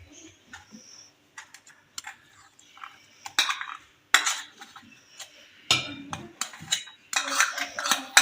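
A utensil scrapes and taps against a bowl as mayonnaise is mixed into cream for Russian salad, in short irregular clicks and strokes, close and fairly quiet.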